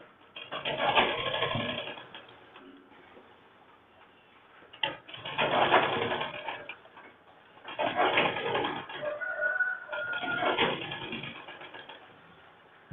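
A sewing machine stitches piping on a boat-neck prince-cut blouse, running in three or four bursts of rapid mechanical whirring and ticking, each a couple of seconds long, separated by short pauses, close and fairly steady.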